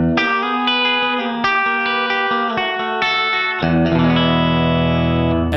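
An instrument plays a sequence of bright, sustained plucked notes through a Cusack Resound V2 reverb pedal, each note ringing into a washy tail, then a fuller swelling chord near the end.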